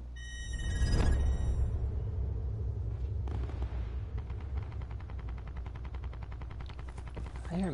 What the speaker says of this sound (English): I hear mad gunfire.